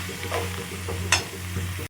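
Banana stem being stirred and fried in a pan: a close, steady sizzle with soft scraping stirs and one sharper scrape midway, ending abruptly.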